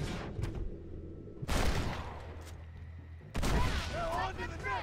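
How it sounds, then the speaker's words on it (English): Shotgun blasts in the zombie western game Red Dead Redemption: Undead Nightmare, two loud booming bursts a couple of seconds apart, each trailing off, over a low rumbling game background. "Ah, she's got a shotgun."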